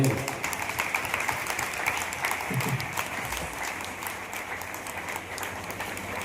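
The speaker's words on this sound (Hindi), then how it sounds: "एक छोटा ताली बजाएंगे पवित्र आत्मा" Applause at a Christian revival meeting in Ambala, Haryana, a crowd clapping steadily for several seconds in a dense, even patter, with a voice briefly audible over the hands partway through.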